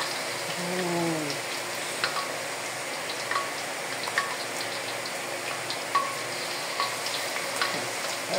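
Eggplant slices fry in hot oil for a crispy snack, giving a steady crackling sizzle with occasional sharper pops and spatters, close up, with brief faint voice sounds early on.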